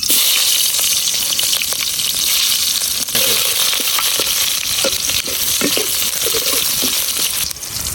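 Onions fry in hot oil for a bottle gourd curry with fish head, giving a loud, continuous close sizzle with scattered crackles and spatters, and no talking.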